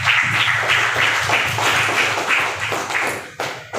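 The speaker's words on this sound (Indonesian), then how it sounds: "kalau gitu tepuk tangan untuk kita semua" A classroom of students applauds together, a loud, dense burst of hand claps that carries on steadily for several seconds with a slight rhythmic pulse.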